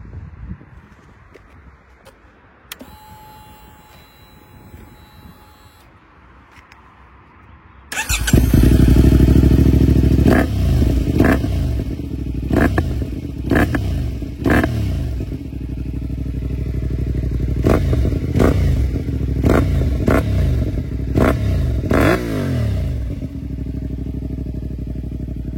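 A CFMoto 450MT adventure motorcycle with an aftermarket exhaust starts after a quiet stretch, then idles loudly and close with repeated sharp revs and throttle blips.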